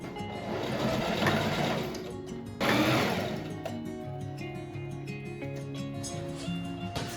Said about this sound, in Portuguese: Eu começo por costurando a parte da gola pelos ombros e abrindo sua costura no ferro.